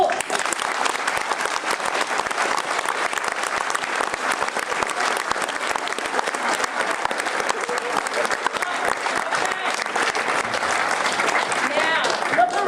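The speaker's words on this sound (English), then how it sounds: "So thank them right now with a big round of applause." A large crowd applauds loudly and continuously, a dense, steady roar of clapping that carries on without pause.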